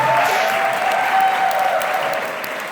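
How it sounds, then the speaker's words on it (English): An audience at a fan convention panel gives a loud, sustained round of applause that fades slightly toward the end, with faint cheering mixed into the dense clapping. "And a huge round of applause for Nancy Cartwright."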